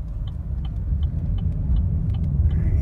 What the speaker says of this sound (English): Here, let the turbo spool up.